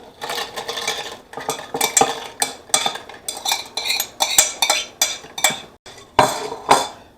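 Pork for red-sauce tamales is stirred in a pot so it won't stick, with a spoon scraping and clanking against the metal in a quick, irregular rhythm, close and clear, with no talking.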